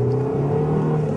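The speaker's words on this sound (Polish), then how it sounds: "Znakomite przyspieszenie mimo braku turbosprężarki." A Saab 900 NG with a non-turbocharged engine accelerates, giving a steady, loud engine drone with a strong low hum heard from close by, with no talk.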